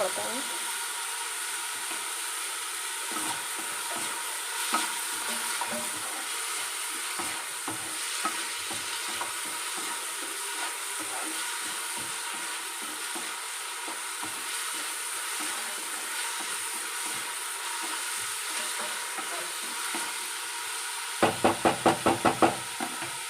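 Village-style egg masala fries in a pan with a constant sizzling hiss, broken by the soft scrape of stirring and a quick run of sharp knocks against the pan near the end.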